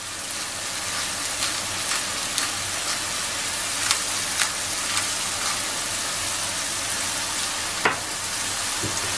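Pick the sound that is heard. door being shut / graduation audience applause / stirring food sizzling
stirring food sizzling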